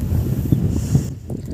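Wind buffeting and rumbling against the microphone along a highway in Sarangani, loud and close, with a brief rattle before it drops off.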